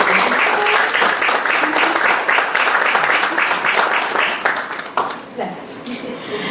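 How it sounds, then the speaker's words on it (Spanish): A conference audience claps for a speaker in steady, fairly close applause that tapers off after about five seconds, leaving a few stray claps and room noise. "Les pido que le den un aplauso a la maestra."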